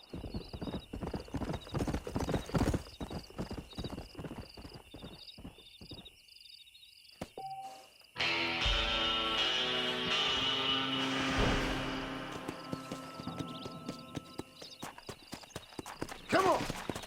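A stallion's hooves clip-clop in rhythmic steps in the Red Dead Redemption video game, with a horse whinny and game music swelling midway while voices talk over parts of it.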